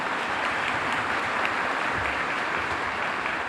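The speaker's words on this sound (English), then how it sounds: "Let's have a round of applause for them." A luncheon crowd at a college football signing day applauds the defensive staff for a few seconds, a dense, even wash of clapping with no voices over it.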